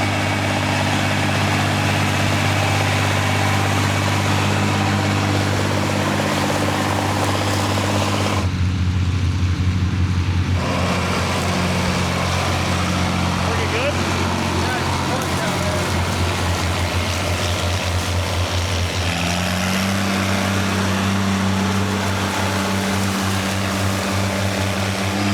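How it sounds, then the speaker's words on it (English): Older, smaller tractors run steadily in a field during an old-school plow day, a loud continuous low engine drone with a brief dip and a shift in engine pitch near the end. "running some older, smaller tractors there"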